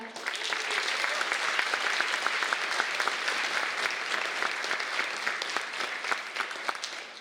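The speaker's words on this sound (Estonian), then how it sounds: "suur aplaus meie tiimile" Loud, continuous applause from the audience at the MÕJU fashion show 2025, many hands clapping in a dense, even roar that runs unbroken for several seconds.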